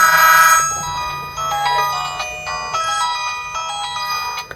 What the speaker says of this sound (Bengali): এই ফোনগুলোর রিংটোনের যে অপশনগুলো সেখানে যদি আমি এক নজর দেখি